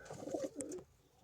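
A single soft pigeon coo, close and fairly quiet, with a short throaty rolling note that fades quickly.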